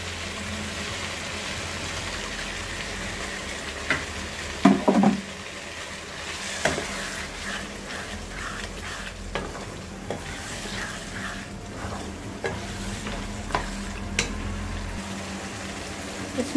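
Fried vegetables go into a pan of frying yogurt and mint for veg biryani, a low steady sizzle broken by spoon scrapes and several sharp clacks against the pot, with no talk.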